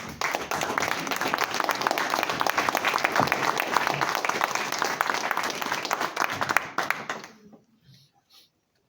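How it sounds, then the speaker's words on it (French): A live audience applauds two performers taking the stage, loud and sustained clapping filling the room before trailing off abruptly into near silence at the end. "Merci de les applaudir très fort."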